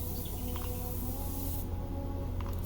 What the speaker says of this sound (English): I'm in a blowtherm downdraft booth, spraying PPG Aquabase